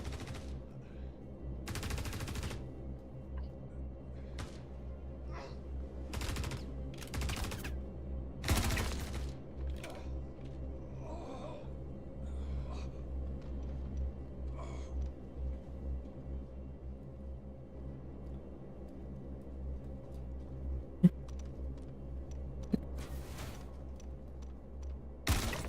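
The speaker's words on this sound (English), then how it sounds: "stop shooting at me" Gunfire in a space-themed video game, with bursts of rapid shots cracking out at irregular intervals over a steady low hum of game ambience; occasional sharp single reports stand out near the end.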